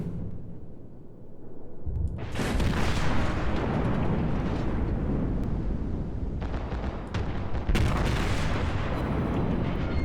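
Heavy booming naval gun salvos in World of Warships. A deep rumbling blast erupts, a second loud burst follows a few seconds later, and both carry long, rolling tails.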